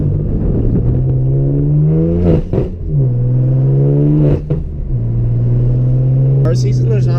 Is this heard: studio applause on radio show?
no